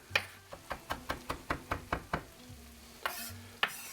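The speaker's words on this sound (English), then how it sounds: "And we're going to get that chopped up." A knife chops through a wad of food on a cutting board in a home kitchen, about ten crisp, evenly paced thuds close by and then a few scattered, louder knocks with no talking.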